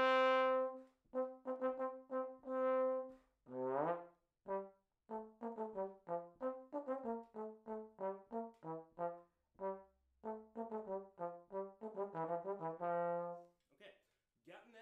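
A solo trombone plays a stately march theme of separated notes, some held, some short and detached, clear and fairly quiet.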